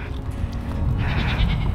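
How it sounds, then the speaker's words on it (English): Goats bleat loudly and close by on a farm, several overlapping cries in quick succession with little else around them. "I hear you, goats."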